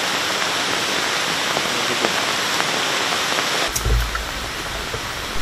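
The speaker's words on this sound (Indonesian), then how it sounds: "Lalu basah karena hujan." Heavy rain pours steadily while hiking toward a waterfall at Riam Tapsa in Bengkayang, a dense, even hiss of water throughout, with a brief louder knock and low rumble near the end.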